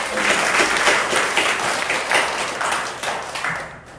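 Church congregation clapping together during a Sunday worship service, a dense continuous round of applause from many hands filling the room, fading slightly at the end.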